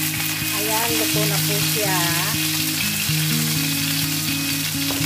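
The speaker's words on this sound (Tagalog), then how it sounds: "check natin mga ka-angels ang ating prinipritong isda" Red sniper fish frying in a pan, a steady loud sizzle under a voice speaking briefly, with music playing throughout.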